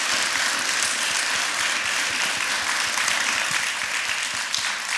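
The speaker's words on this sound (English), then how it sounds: "please give another round of applause and thanks to our distinguished presenter, Judge Peggy Walker." An audience at a leadership forum applauds a presenter, a dense, even wash of clapping from many hands that holds steady for the whole stretch.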